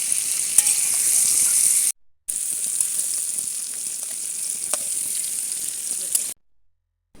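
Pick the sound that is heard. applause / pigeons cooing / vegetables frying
vegetables frying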